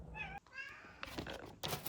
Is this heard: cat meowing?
yes